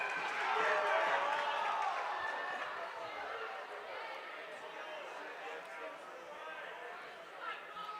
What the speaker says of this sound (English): Not sure what the crowd is hooting and hollering about.